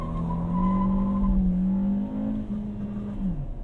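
A 2021 MK7 VW Golf with a 1.4 liter turbo engine and six-speed manual revs hard from inside the cabin, the engine note rising and holding steady before dropping away, loud and close.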